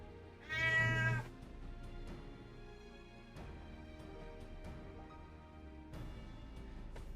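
A cat meows in the video game Final Fantasy XIV, one drawn-out, fairly loud mew followed by fainter meows over a quiet game soundscape with light musical tones.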